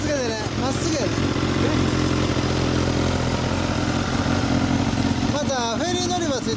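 Loud, continuous idle of a 2015 Suzuki GSX-S1000 with a full titanium LCI GP exhaust, a rumbling drone close by, and people speaking over the engine at the start and end.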